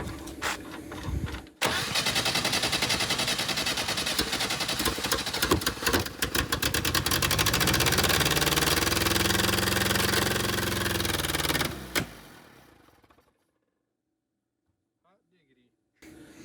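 A Willys CJ2A jeep engine, choked and running off fuel poured into the bowl, cranks briefly, then catches and roars loud and steady for about ten seconds before dying out to silence; a voice is heard around the start.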